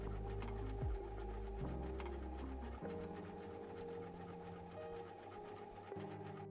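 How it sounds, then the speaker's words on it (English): Sewing machine stitching around the edge of a fabric piece, running in a rapid steady rhythmic hum with brief pauses and speed changes, fairly quiet and close. "we're going to sew all the way around"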